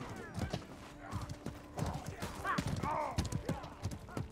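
A horse gallops in the medieval combat game Mordhau, with rapid clip-clop hoofbeats moving close by amid battle noise and a brief whinny, while faint voices are heard underneath.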